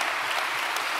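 A church congregation applauds together in a steady, dense wash of clapping that fills the whole moment without a break, close and full, with no voices standing out above it.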